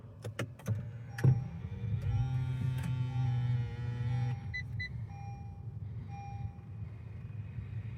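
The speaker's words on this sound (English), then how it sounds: "As the vehicle starts up, the steering wheel will go back to its desired position of where it was at before." A 2019 Acura MDX Advance fires up by push button, a starter crank and engine catch followed by a steady idle hum, with a few short electronic chimes afterward; no talking.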